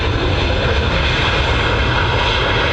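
A fixed-wing airliner roars loudly on the runway at Manchester Airport, a dense, steady engine rumble filling the whole stretch without pause or voices.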